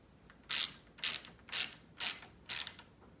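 Ratchet wrench cranking down a bolt on the handlebars of a Honda ATC 200X, five sharp, evenly spaced clicking strokes about half a second apart, close and loud in an otherwise quiet space.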